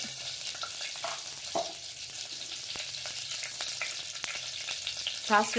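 Mustard seeds splutter in two spoons of hot oil in a pan for a Karnataka greens stir-fry tempering, a steady quiet sizzle broken by irregular sharp pops and crackles, growing busier toward the end, with no talking.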